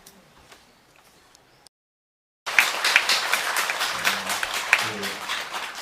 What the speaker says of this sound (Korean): 훌륭하신 그 법문을 이렇게 내려주신 임보차님께 다시 한번 큰 박수